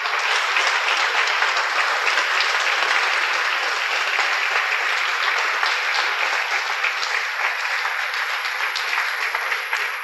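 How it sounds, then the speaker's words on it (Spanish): A church congregation claps loudly and continuously, the dense applause holding at an even level from start to finish with no pauses. "dale un fuerte aplauso al Rey"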